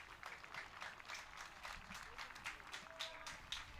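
A home soccer crowd at a Rutgers men's match gives faint, scattered applause for an injured player, distant patter of clapping continuing throughout.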